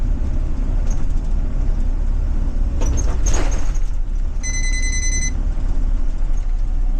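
A 2023 Blue Bird Vision school bus gives a steady warning beep inside the cab, a clear high tone held for about a second over the loud drone of the engine and road.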